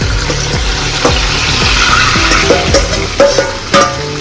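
Marinated chicken hits hot oil in a kadhai with a loud, continuous sizzle and spitting crackle, with sharper scrapes and pops as it is moved around the pan.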